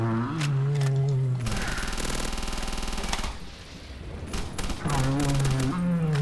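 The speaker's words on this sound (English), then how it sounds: "do you not see how many bullets I'm putting through this guy?" A long, loud burst of automatic Thompson fire in Call of Duty World at War custom zombies, set in a hospital, hammers steadily for about two seconds, then scattered shots follow while voices talk at the start and end.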